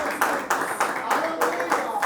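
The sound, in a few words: church congregation applauding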